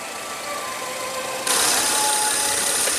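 A 2015 Ford Explorer's 3.5-liter twin-turbo EcoBoost V6 idles steadily up close, a continuous hum that jumps noticeably louder and brighter about halfway through and then holds level.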